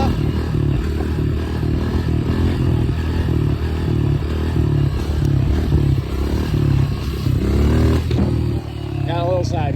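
A Honda CRF125F dirt bike engine revving as the rider pulls a wheelie in second gear, a loud close-up buzzing drone with rising throttle surges, clatter and a voice talking over it.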